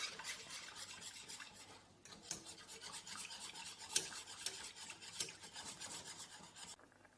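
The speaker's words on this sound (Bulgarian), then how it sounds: "Поставям на котлона и започвам да разбърквам" Einkorn flour mixture being stirred continuously in a pot on the stove, giving a close, steady scraping and rubbing of the spoon against the pot, with a few sharper clinks along the way.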